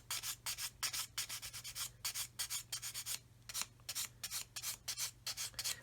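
A plastic part of a 1/32 scale Kitty Hawk OV-10A/C Bronco model aircraft is sanded in one direction, producing close, rhythmic raspy strokes in quick repeated bursts, with no talking.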